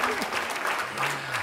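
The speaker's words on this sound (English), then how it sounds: "Yeah, you should clap, clap, clap." Audience applause at a patient education conference for neuroendocrine tumors, a steady wash of clapping held for the whole moment, with faint voices and tonal murmurs mixed underneath.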